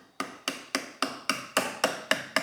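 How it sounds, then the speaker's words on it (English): A hammer handle raps steel transmission bolts on a 1968 GTO TH400 during final assembly: nine evenly spaced, crisp knocks about a third of a second apart, close and clear with no talking. "you can give these a little bit of a rap tap tap with a rubber hammer"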